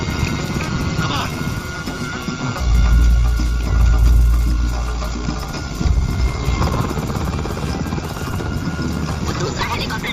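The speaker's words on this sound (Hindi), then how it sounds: "दूसरा हेलीकॉप्टर नीचे क्यों नहीं उतर रहा है? वो गनशिप है हमारे बचाव के लिए।" Gunship helicopter rotors thump and roar loudly in a Hindi-dubbed Hollywood action scene, a heavy continuous drone that swells in the middle while people talk and shout over it.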